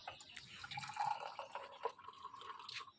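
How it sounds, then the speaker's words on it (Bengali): Tea is poured from a pot into three cups, a soft close trickle with a rising, faintly gurgling tone as each cup fills, quiet and without talk. "চাটা এখন ঢেলে নিচ্ছি আমাদের তিনজনের জন্য।"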